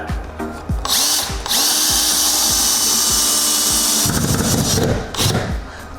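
Power drill driving a screw into a wall stud to hang a mount for a 75-inch TV, a loud whining motor run of several seconds that bogs down and grinds as the screw bites, then stops, close up.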